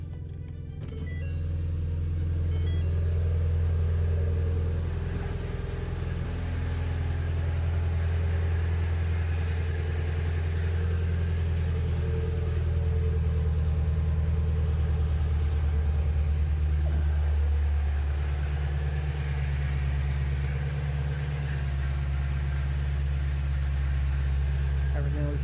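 A Ford Mustang GT350 V8 fires up and settles into a loud, steady, deep idle while warming up after an oil change, a constant low rumble with no voices.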